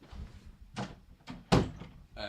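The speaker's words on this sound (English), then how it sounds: "Let me shut my door." An indoor door is pushed shut with a solid thunk, after some shuffling movement and softer knocks. It sounds close and fairly loud.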